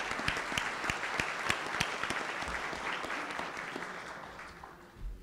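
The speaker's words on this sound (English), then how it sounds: "Let's give one more round of applause for the panelists." An audience at a regional commission workshop applauds the panelists, with crisp individual claps standing out at first over a steady roar of clapping that gradually dies away.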